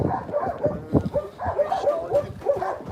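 A five-month-old puppy gives soft, repeated whimpering yips and low vocal grumbles in a close, uneven rhythm, fairly loud and with no talk over it.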